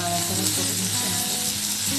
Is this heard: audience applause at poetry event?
no